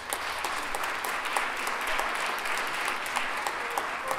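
A crowd applauds the designer of a logo at an anniversary celebration, with continuous clapping and sharper individual claps popping out of the mass, moderately loud and steady throughout.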